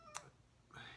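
A cat meows twice, close by in a quiet room: a short sharp cry near the start and a longer, drawn-out meow toward the end, with low room noise between.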